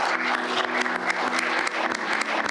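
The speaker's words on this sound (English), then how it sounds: "can we please have a round of applause for our panelists today?" A crowd claps steadily, loud and sustained applause filling the whole moment without a break.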